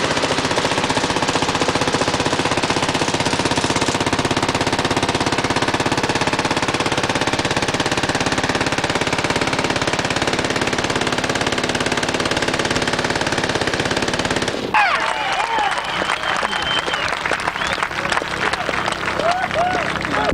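Bursts of automatic gunfire rattle continuously at an outdoor firepower demonstration range during a Soldier of Fortune Convention shooting show, loud and dense, with the firing pattern shifting near the end.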